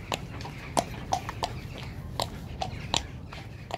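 A horse's hooves clop at a close, even walking rhythm, the sharp knocks falling in a regular pattern over a low background. Nobody is speaking.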